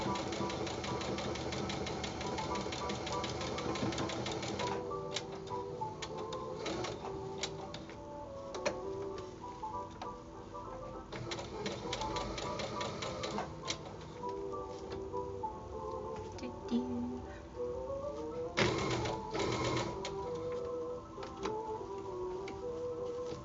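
A sewing machine stitches in the ditch while making a Christmas present, giving a steady mechanical whir with rapid ticking needle strokes and a few brief surges in pace, close and continuous, with no talking.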